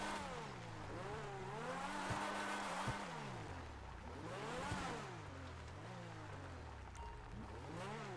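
A car drives in the GTA Online video game, its engine revving up and down in repeated swells with gear-like pitch changes, moderately loud and steady throughout, with no voices.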